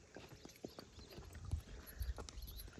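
Irregular horse hoof clops on hard ground, fairly close, with a low rumble underneath and no talking.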